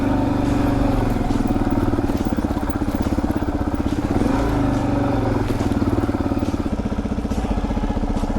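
A Suzuki DRZ400S dual-sport motorcycle climbing a rocky uphill trail, its single-cylinder engine chugging steadily and loud at close range with a continuous pulsing drone throughout.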